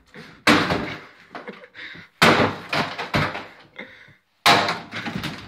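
Heavy sledgehammer blows smashing a wooden door during demolition, three loud, close impacts spaced about two seconds apart, each followed by splintering and cracking wood.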